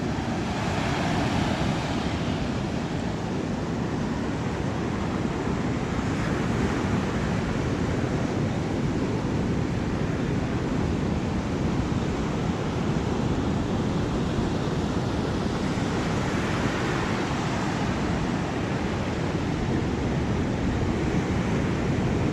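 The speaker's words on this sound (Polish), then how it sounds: "Cicho, tylko ocean. Morze." Ocean waves breaking on the beach at Kata Noi, Phuket, in the early morning with a light breeze, a continuous broad roar of surf that swells gently in places and stays steady and fairly close throughout.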